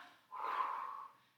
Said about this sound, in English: So I'm breathing in on the way up